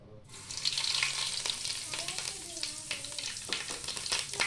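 Cumin and mustard seeds hit hot oil in a wide pan for a fish curry, bursting into a loud sizzle with scattered crackles and pops alongside a few stirring scrapes.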